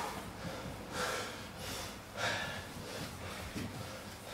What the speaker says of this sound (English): Both competitors breathing heavy at this point.